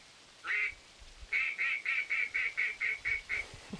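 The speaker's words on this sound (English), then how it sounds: "The duck call." Electronic duck call from a Dogtra QL2 bird launcher: one short quack, a pause, then a rapid string of about nine evenly spaced nasal quacks, clear and fairly close with no voices.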